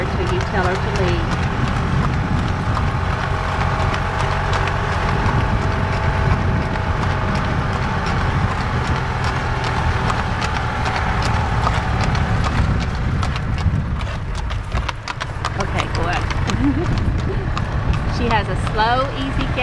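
A slow, smooth-gaited horse clip-clops steadily beside a moving golf cart, its even hoofbeats continuous and close over a constant cart hum, with a person talking throughout.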